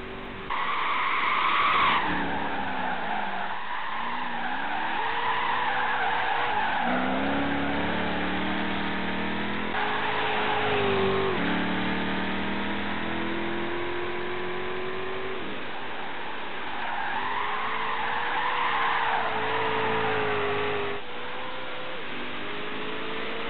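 V8 6.2-litre American car engine, hand-built in Kentucky, producing about 640 horsepower, in a Gran Turismo racing game: a loud, sustained engine roar rising and falling through gear changes, with tyre skids, and no talk over it.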